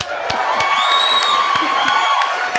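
Crowd in a building cheering and whooping with scattered claps, loud and close, voices rising together in a lively burst that stays busy throughout.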